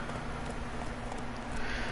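In The Witcher 3, a horse's hooves beat quietly in a rapid clip-clop, a soft run of repeated thuds under faint background ambience.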